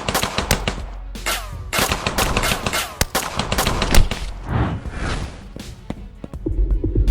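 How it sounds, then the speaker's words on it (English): Rapid bursts of automatic gunfire in an animated story, loud clattering volleys of shots in quick succession with brief pauses between bursts. "Arif's men start firing at Mehul."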